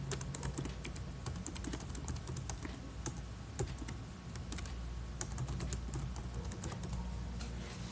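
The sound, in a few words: typing an email address on a computer keyboard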